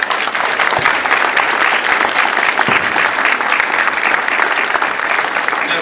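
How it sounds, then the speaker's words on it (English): An audience at a wedding ceremony applauds the bride and groom after the ring exchange, a steady and full round of clapping that fills the hall evenly throughout. "Give them a round of applause, please."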